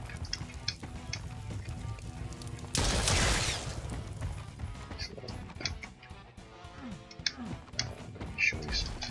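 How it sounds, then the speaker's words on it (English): Gunfire from exploding barrels in a Doom remake video game erupts in a short, dense burst of muffled, attenuated blasts amid clattering game effects and scattered clicks and thuds. "that nice attenuated sound for the fire off the barrels"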